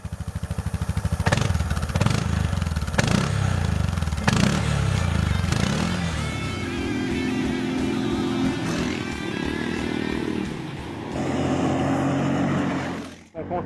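Single-cylinder 700 cc engine of a KYMCO MXU 700 EXi ATV, revving in loud bursts at first and then settling into a steady, close drone, with a narrator speaking over it.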